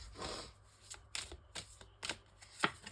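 Tarot cards laid down and shuffled during a reading, giving a string of soft, quick papery slaps and riffles at close range, fairly quiet, with no talking over them.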